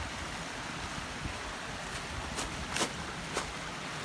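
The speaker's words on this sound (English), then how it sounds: "it's a trickle or a nice flow, like you see here" A woodland stream over a shale bottom runs steadily after a night of rain, a broad continuous rush of flowing water with a few sharper splashes or steps near the end.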